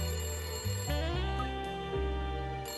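Telephone ringing in the Layton Brothers: Mystery Room video game, a steady electronic ring with rising tonal steps over game music, fairly loud and alone with no talk.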